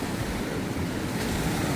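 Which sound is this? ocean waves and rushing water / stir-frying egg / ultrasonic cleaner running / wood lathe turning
ocean waves and rushing water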